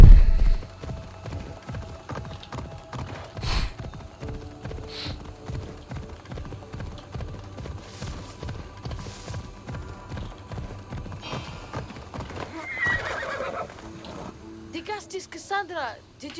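Horse hooves clip-clop in a steady trotting rhythm in Assassin's Creed Odyssey, close and prominent, with a brief neigh and game sounds mixed in while someone talks over them.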